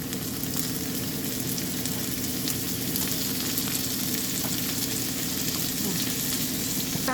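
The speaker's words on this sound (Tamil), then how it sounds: "ஆனியன்ஸ் போட்டுட்டு இது நல்லா கேரமலைஸ் ஆகணும்" Onions and capsicum sizzle steadily in a hot pan while being cooked down for chilli egg Maggi noodles, a loud, continuous close frying crackle with no pauses.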